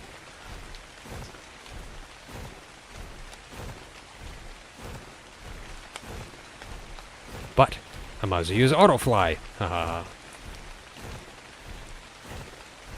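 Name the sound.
rain in the video game ARK: Survival Ascended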